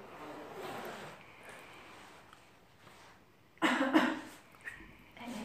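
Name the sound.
coughing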